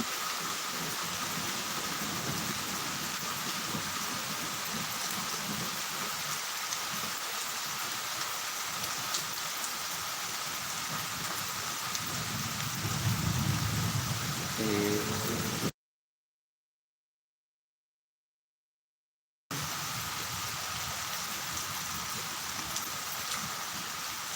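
Heavy rain falls in a continuous broad hiss, with a brief low rumbling swell near the middle, then cuts to total silence for a few seconds before the steady downpour resumes.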